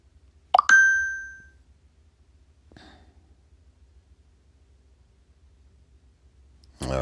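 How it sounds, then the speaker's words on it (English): A phone notification sounds during a mobile game session: one bright, clean ding with a ringing tone that fades over about a second, then near silence with a faint later blip before a sharp burst at the end. "Oh, I forgot to turn off my notifications."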